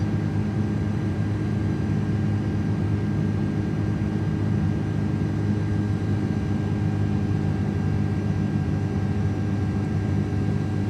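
Airbus A330 engines climbing in Microsoft Flight Simulator 2024 produce a constant, loud, low jet roar with a thin high whine on top, steady and unbroken throughout.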